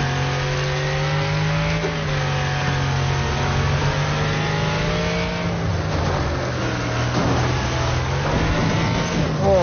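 A race car engine in the Wreckfest driving game revs up and shifts through gears, pitch climbing and dropping in repeated sweeps, loud and continuous across the whole stretch with no one talking.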